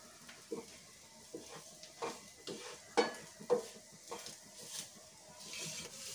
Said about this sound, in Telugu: ఇప్పుడు మనం కలుపుకుందాం